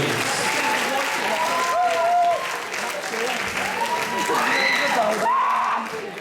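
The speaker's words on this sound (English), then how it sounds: "Shauna and Adele, give them a round of applause." Applause from pupils and staff at a Year 11 leavers school assembly, a continuous crowd clapping with cheering and voices calling out over it throughout.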